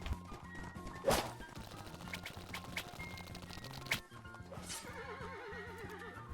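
Horses neighing in the video game Blood & Iron, two loud shrill whinnies over background music, with hoof clip-clop and combat clashes throughout.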